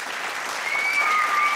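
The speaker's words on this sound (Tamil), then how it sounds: "இன்னொரு தடவை நீங்கள் சாருக்காக விசில் அடிங்க, கைத்தட்டுங்க" An audience at an Indian TV show claps steadily while a few shrill whistles ring out over the applause, the noise swelling slightly toward the end.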